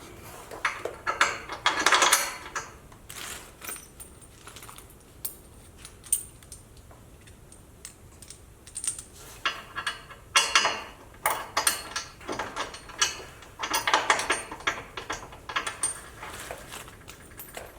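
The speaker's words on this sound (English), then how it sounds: "So I'm just going to go ahead and get the bolts in, make sure everything's lined up, and then I'll tighten everything down." Bolts and metal hardware are fitted to rock sliders on a 1979 Jeep Cherokee, making irregular close clinks, rattles and taps in scattered bursts.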